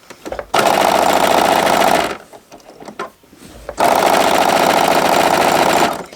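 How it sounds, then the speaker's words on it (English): Sewing machine running a straight stitch along quilt binding with a 1/4 inch presser foot, in two steady bursts of about one and a half and two and a half seconds with a short pause between, loud and close. "I'm using my 1/4 inch feet just to keep me in line and so that my straight stitch line remains straight"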